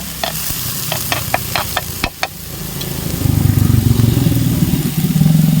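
Prawn masala with a pinch of salt stirred in a pan, a run of sharp metallic taps and scrapes at first, then a low rumbling, engine-like drone with a sizzle swelling and holding to the end.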